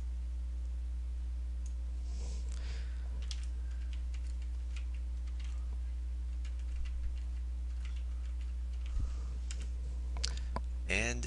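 Light, irregular clicking of computer keyboard keys being typed at a desk, quiet and close, with scattered bursts of keystrokes over a low electrical hum and a quicker flurry near the end.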